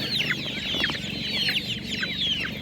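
Several chickens cluck and squawk close by at a Ukrainian village livestock market, a busy overlapping run of short calls over low background murmur.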